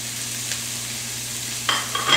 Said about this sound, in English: Now we're going to add our chopped garlic.